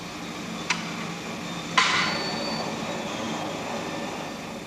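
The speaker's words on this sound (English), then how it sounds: "Now we'll cold roll a similar piece of the same aluminium." A cold rolling mill presses a piece of aluminium between its rolls for a slight thickness reduction: two sharp clanks, then a steady mechanical rumble and whine that holds at moderate level.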